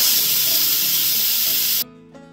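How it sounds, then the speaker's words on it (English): Steam hisses loudly and steadily from an Instant Pot as a pickling solution for gizzards boils, then cuts off abruptly, leaving a faint low hum. "We are going to let the solution come to a boil."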